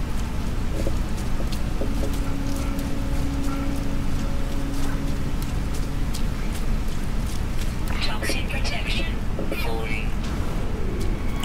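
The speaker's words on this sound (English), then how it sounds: "Does it ever stop raining?" Steady rain falls throughout in the No Man's Sky video game, a dense hiss that persists under game sounds and voice commentary.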